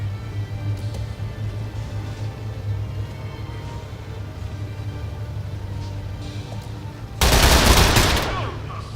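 Isaac opens fire in the video game Lamplighter's League, a loud burst of gunfire that lasts about a second and a half, set against a steady low game hum and quiet background sound.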